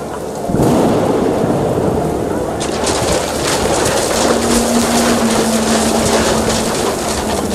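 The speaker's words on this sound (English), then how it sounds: "The rain came down in buckets then" A thunderstorm with heavy rain: a dense, loud roar of downpour with rumbling thunder, and a faint steady tone running underneath.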